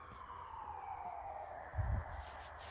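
A distant fire engine siren in Finland wails steadily in the background, its pitch sliding slowly downward, with a brief low rumble near the end.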